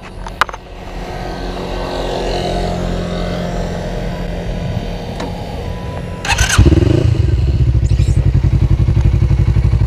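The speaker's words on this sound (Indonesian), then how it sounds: "Nah ini kondisi DB killernya gue lepas. Suara 2 silindernya langsung keluar." A 250cc two-cylinder motorcycle, a Suzuki Inazuma GW250 with a 3Tech aftermarket exhaust and its dB killer removed, starts up and settles into a loud, throaty, pulsing idle with a rhythmic two-cylinder thump.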